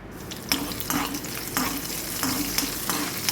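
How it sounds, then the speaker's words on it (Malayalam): Mustard seeds, small onions and torn dried red chilies fry in oil while being stirred, a loud continuous sizzle broken by regular scraping strokes about every half second, with no talking. "കടുക് ഇട്ടതിന് ശേഷം ചെറിയ ഉള്ളി, വറ്റൽമുളക് തുടങ്ങിയവ ചേർത്ത് മൂപ്പിച്ചെടുക്കണം."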